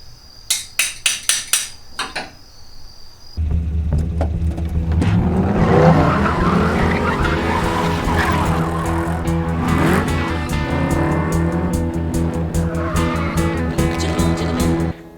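An AC Cobra sports car slides sideways in a movie scene. A few sharp metallic taps come first, then a loud, sustained engine roar with tire squeal runs steadily to the end.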